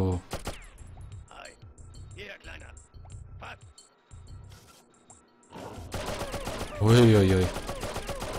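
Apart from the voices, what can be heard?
gunfire with heavy recoil in the video game Oddworld: Abe's Oddysee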